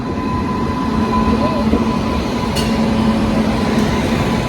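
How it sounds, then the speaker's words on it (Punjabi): A train pulls into a station on a journey toward Ludhiana, a steady loud rumble of rail noise with a faint hum and brief squeals, with platform voices murmuring underneath. "ਆਪਣੀ ਟ੍ਰੇਨ ਪਹੁੰਚ ਚੁੱਕੀ ਆ"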